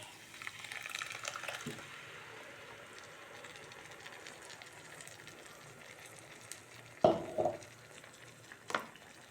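Onions are mixed into a tomato and Kashmiri chilli mixture for a tomato chutney. Quiet, soft stirring and scraping continue throughout, with a couple of louder clatters near the end and no voices.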